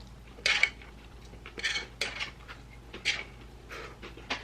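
Dishes and metal utensils clatter and clink nearby as a table is cleared after a noodle meal, in several short bursts of rattling with quiet pauses between them. No one speaks.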